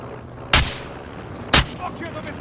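Two sharp gunshots about a second apart, loud and punchy over a low background hum.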